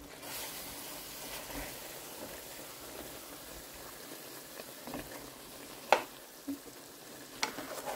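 Fish frying in a pan for a homemade desi fish salan: a steady low sizzle throughout, with a few sharp clatters near the end as the pieces are turned over.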